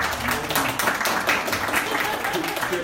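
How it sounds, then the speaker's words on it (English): A small crowd at a West Portage Park neighbors' association gathering claps for the host, a dense, lively round of applause lasting a few seconds with some voices mixed in. "So we want to just give her this round of applause."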